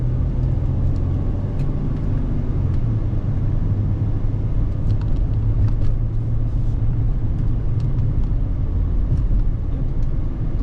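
A 2014 Mercedes-Benz ML350 CDI with a V6 turbo diesel driving, heard from inside the cabin as a steady low engine and road rumble that stays even throughout.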